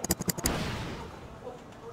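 Gunfire in the real-time strategy game Wargame: Red Dragon: a quick burst of four or five sharp shots up front, then a long decaying boom and rumble that fades into quieter ambience.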